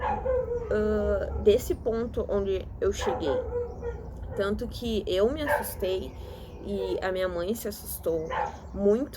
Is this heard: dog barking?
yes